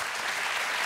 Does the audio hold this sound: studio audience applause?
yes